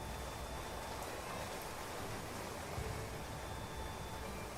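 Rain falls in the video game Clanfolk as a soft, continuous hiss of rainfall, even and unbroken throughout.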